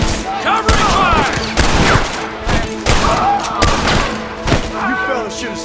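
A Red Dead Redemption gunfight in progress: repeated loud, close gunshots crack out in bursts, mixed with in-game voices shouting over the firing.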